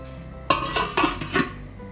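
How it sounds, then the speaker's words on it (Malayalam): A metal lid set down on a pot of Kerala-style egg curry: a few short clinks and clatters spaced about half a second apart, close and moderately loud, with no talking. "മൂടി വെച്ചിട്ട് വേവിക്കാം."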